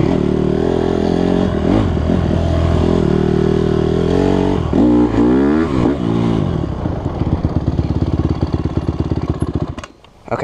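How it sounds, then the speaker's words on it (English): A dirt bike engine runs loud and close, idling with a rough beat and then revving up and down in several throttle blips before dropping back to a choppy idle and briefly cutting out near the end. "I'm not sure if you could hear me while the bike was running or not"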